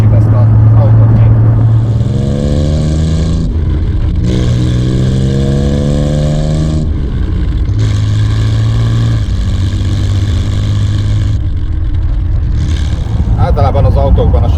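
A Triumph TR6 sports car driving along, its engine droning and rising through the revs in repeated pulls, with a person talking over the steady engine noise.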